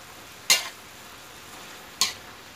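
Pork and chai ya vegetables being stir-fried in a pan, with two short, sharp scraping bursts of a utensil against the pan about a second and a half apart over a quiet, steady background.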